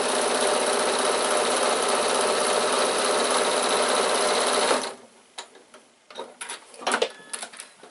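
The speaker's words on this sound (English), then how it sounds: "So just hold that in place and sew across." A sewing machine runs steadily for about five seconds while stitching across a bag, a loud continuous mechanical whir, then stops and leaves a few scattered clicks and handling noises.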